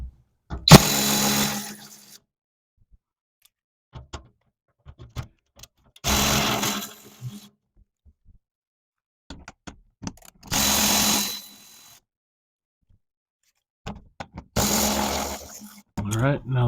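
A power tool removes four 10 mm bolts during a recovery-point installation on a vehicle, giving four separate loud whirring bursts of about a second each, with near silence and small clicks between them.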